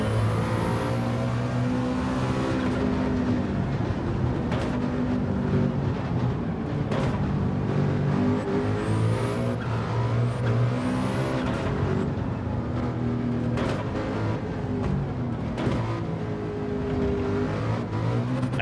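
A race car engine in Gran Turismo 7 roars continuously, revving up and down through gear changes with a steady, loud, buzzy drone.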